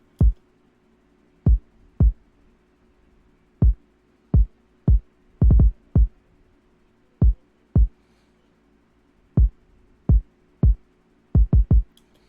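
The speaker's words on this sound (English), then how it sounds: "this is what the kick pattern sounds like." Deep, punchy kick drum hits from an FL Studio beat repeat in a sparse, syncopated pattern with short gaps and quick doubled strikes, alone and dry.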